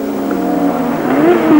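Formula 1 cars at the 1986 Spanish Grand Prix, a loud, high engine whine that holds and then rises in pitch as a car accelerates past, heard up close.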